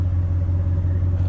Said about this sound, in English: Flowmaster 40 exhaust on here.